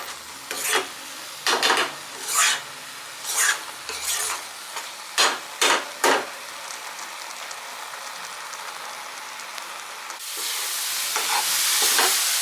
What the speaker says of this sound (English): Let's cook this mixture till the mixture gets thick.